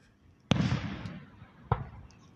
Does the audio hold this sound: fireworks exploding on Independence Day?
yes